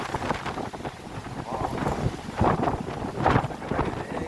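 Gusty wind buffets the microphone, rumbling and swelling in uneven bursts with a couple of stronger blasts.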